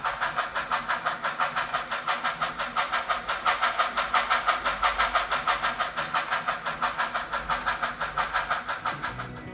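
A model diesel locomotive fitted with a Tsunami 2 sound decoder chugs in a loud, regular pulsing rhythm of about four beats per second, with a constant mechanical hiss underneath and no voices.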